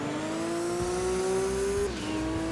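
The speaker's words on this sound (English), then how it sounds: "Oh, this car sounds cool." A Toyota GT1 race car in the Gran Turismo 2 video game holds a loud, strained engine note that climbs slowly, then drops sharply on a gearshift and picks up again. Some tire noise sits underneath, with no talk.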